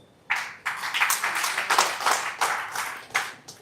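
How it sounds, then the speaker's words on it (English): A crowd claps in a burst of applause, starting abruptly and continuing with uneven swells for a few seconds, fairly close and lively. "can we give a big round of applause?"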